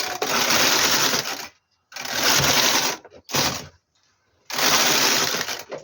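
A knitting machine carriage knits rows of a lace pattern in four loud, rasping mechanical sweeps, each lasting about a second, separated by short silent pauses.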